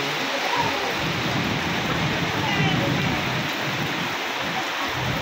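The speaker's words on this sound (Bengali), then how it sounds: "আর এইমাত্রই প্রচণ্ড বৃষ্টি চালু হয়ে গেছে।" Heavy monsoon rain pours down on a street of shops in North Bengal in a dense, steady roar that fills the whole scene, loud and constant from start to finish.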